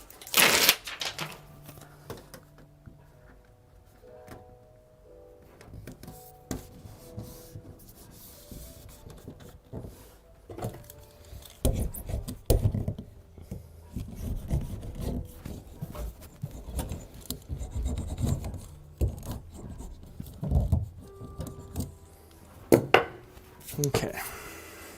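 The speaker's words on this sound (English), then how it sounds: "I'm going to put in sound deadening right here" Sound deadening material being pressed, rubbed and smoothed onto a van's metal panel during a camper build, with scattered scraping, crinkling and tapping bursts that grow busier and louder partway through, plus occasional speech.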